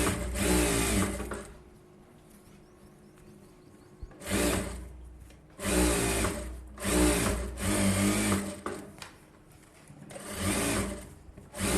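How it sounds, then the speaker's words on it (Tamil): A tailor's sewing machine stitches a collar-neck blouse, running in several loud, close bursts of rapid whirring stitching separated by short quiet pauses. "பிசரை கீழே இறக்கி விட்டுட்டு தையல் போட்டுக்கணும்."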